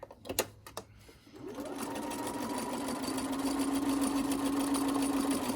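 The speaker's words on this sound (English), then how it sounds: "And so what I do there is I'll just start sewing right there." A sewing machine stitches a seam on a zippered project bag, starting after a few brief clicks and then running in a steady, continuous whir at close range with no talk.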